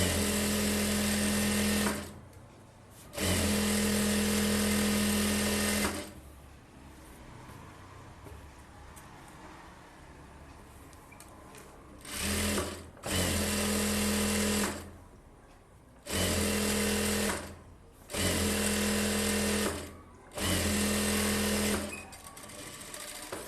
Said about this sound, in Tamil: அதை அப்படியே மடித்து சும்மா ரஃபாக ஒரு தையல் போட்டுக்கோங்க.